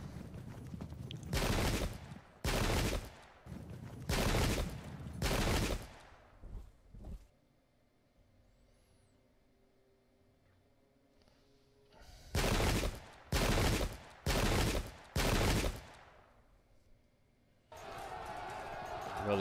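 Musket volleys in the Pike and Shot English Civil War video game between Cornish Royalists and Parliamentarians: loud crackling bursts of gunfire in repeated clusters, separated by quiet gaps, ending with a continuous noise.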